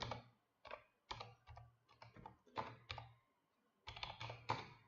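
Typing on a computer keyboard comes through as quiet bursts of close key taps in an irregular rhythm, separated by short pauses.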